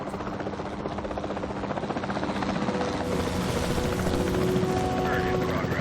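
Helicopter in the game Jurassic World Evolution 2, with a loud, continuous rotor thrum and engine drone that builds slightly while a voice talks over it.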